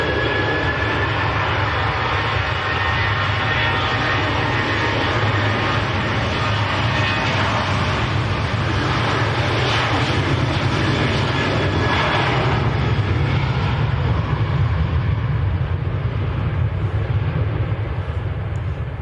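The Oslo flight's jet aircraft at Manchester Airport produces a loud, sustained engine roar with a whining tonal edge, building slightly toward the middle and staying strong throughout, with no talking.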